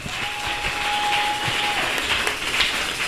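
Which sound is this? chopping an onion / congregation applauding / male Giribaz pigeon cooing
congregation applauding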